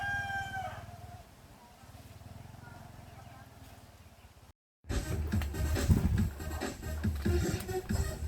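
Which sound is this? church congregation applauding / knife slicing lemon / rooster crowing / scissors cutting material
rooster crowing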